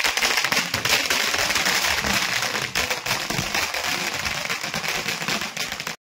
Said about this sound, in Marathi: थोड्याच वेळात आता धमाका होणार आहे।